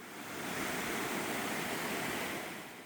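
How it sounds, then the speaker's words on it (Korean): Mountain stream in the rocky Chiaksan valley rushing over stones, a steady broadband roar that swells slightly and fades, heard alone at moderate distance. "치악산 계곡은 돌이 많은 산악지형 때문에 굽이굽이 휘어지고 물소리도 아주 큽니다."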